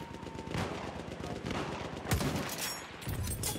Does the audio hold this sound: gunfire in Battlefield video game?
yes